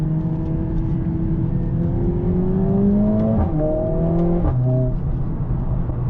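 A Mercedes-AMG A45S hot hatch with its 2.0-liter M139 turbo engine revs up in rising pulls, dropping briefly between shifts before climbing again, loud and close with a steady whirring drone.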